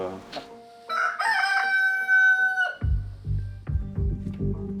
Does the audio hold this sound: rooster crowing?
yes